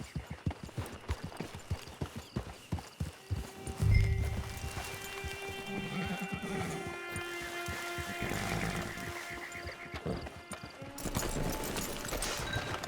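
Horse hooves clip-clop at a steady walking rhythm in Red Dead Redemption II, close and clear for several seconds, then fade under a musical score with a brief louder rumble near the end.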